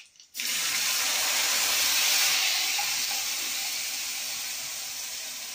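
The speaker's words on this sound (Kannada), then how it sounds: "ಈಗ ಹುಣಸೆ ಹಣ್ಣಿನ ಜ್ಯೂಸನ್ನು ಹಾಕ್ಕೊಳ್ತಾ ಇದ್ದೀನಿ" Tamarind juice poured into a hot pan of tempering sets off a sudden loud hiss that sizzles steadily for several seconds, slowly fading, with no talking.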